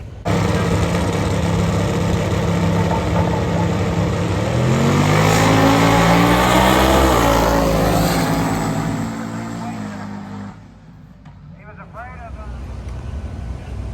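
Pro-charged small tire drag race cars roar down the strip, a loud sustained engine blast that swells with rising revs, then cuts off abruptly. Someone talks over the engines.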